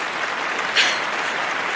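Thunderous applause from an audience after a stage performance, used as an effect in a Hindi horror audio drama; a steady, fairly loud wash of clapping with a brief swell near the middle, no voices.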